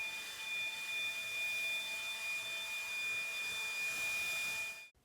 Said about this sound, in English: the blower is definitely quieter than any of my gas-powered blowers